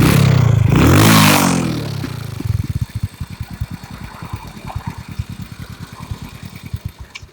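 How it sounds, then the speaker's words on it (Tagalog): Suzuki Raider or Sniper motorcycle engine revs hard at the start, then settles into a loud, close, rapid popping idle with uneven rhythmic pulses. "Oh, ang makina guys."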